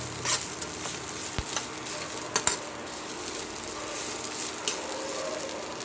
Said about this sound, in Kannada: ಕರಿಬೇವು ಕೊತ್ತಂಬರಿ ಎರಡು ಚೆನ್ನಾಗಿ ಹಾಕಿ ಬಾಡಿಸ್ಬೇಕು